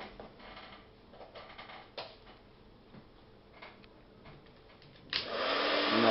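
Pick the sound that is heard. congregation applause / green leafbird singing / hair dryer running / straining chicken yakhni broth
hair dryer running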